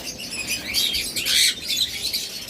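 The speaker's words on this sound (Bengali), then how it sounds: "দেখুন অসংখ্য পরিমাণ পোরপাস পাখি রয়েছে আমাদের কাছে" A large flock of forpus parrotlets kept in a breeder's cages chirps busily nearby, overlapping high thin tweets rising into a brief louder burst, with no voices.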